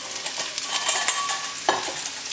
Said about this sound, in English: Put the potatoes in first so they can sort of brown.